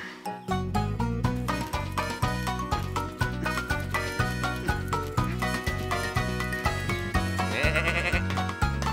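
Cartoon sheep bleat on a farm in an animated children's tractor series, the wavering calls mixed into a bouncy, steady-beat music track that stays loud throughout.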